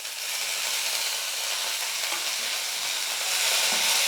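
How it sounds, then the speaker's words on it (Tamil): Mudakathan greens sauté in a pan with garlic and onion, a steady bright sizzle with light stirring, close and continuous without any speech. "கீரை சேர்த்துட்டு ரொம்ப நேரம் வே வதக்க வேணாம் பாருங்கள் இந்த மாதிரி லைட்டாக வதங்கின உடனே நம்ம ஸ்டவ் ஆஃப் பண்ணிவிட்டு"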